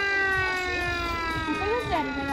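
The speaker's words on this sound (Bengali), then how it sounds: "সাইরেন বেজে উঠে।" Wheel-driven siren on a firefighting bicycle at an Italian fire service exhibition in Bellaria Igea Marina, Rimini, gives a steady, close wailing tone that dips and bends in pitch near the end, with voices murmuring underneath.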